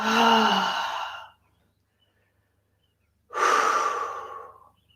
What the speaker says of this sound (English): Let it out through the mouth. Exhale.